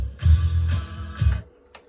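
A pop track played by a DJ, a brief loud burst with bass and vocals that cuts in twice and then drops away.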